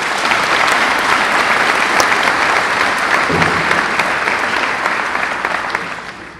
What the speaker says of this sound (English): Please give Jace a round of applause.